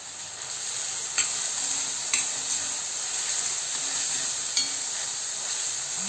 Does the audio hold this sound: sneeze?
no